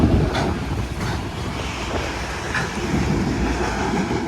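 A CSX/UP freight train passes close by in Madison, its wheels clacking rhythmically over the rail joints along with a continuous rumble and some wind buffeting the microphone.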